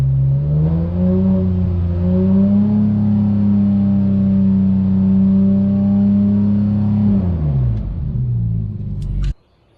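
A Porsche 991.2 with a SOUL Performance aftermarket exhaust revs up to about 4,000 RPM, holds a sustained mid-pitched roar, then drops back and cuts off abruptly near the end.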